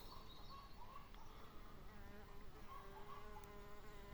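Osmia rufa mason bees fly around a nesting hive outdoors in June, a faint, steady insect buzz with wingbeat drones that rise and fall as they pass, set against quiet ambient background without talking.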